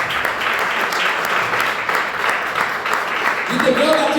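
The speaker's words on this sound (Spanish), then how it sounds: "Dar un aplauso al Señor." Congregation applause during a church sermon: a steady, dense wash of clapping that carries evenly through the whole stretch, with some voices mixed in underneath.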